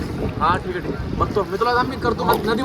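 A boat passing on the river at Varanasi, heard as a steady low rumble with gusty wind buffeting the microphone, while voices chatter nearby throughout.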